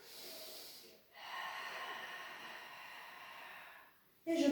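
A long breath is exhaled softly during a Pilates exercise, a breathy hiss lasting a few seconds after a short initial breath, close and quiet.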